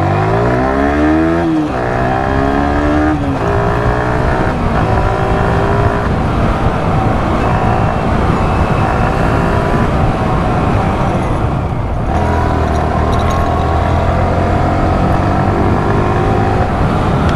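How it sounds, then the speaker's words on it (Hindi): A Yamaha R15 V3 motorcycle modified for stunts revs hard and rides off, a loud close engine drone with rising and falling pitch sweeps that runs steadily throughout. "सो चलो जो भी हो बाइक भगाते हैं अभी।"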